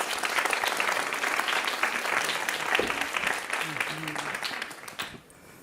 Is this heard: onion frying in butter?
no